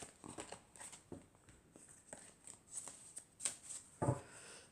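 A deck of Triade oracle cards being shuffled and cut by hand: soft, close papery riffles and slides in short bursts, ending in a firmer slap as the deck is cut, with no talk.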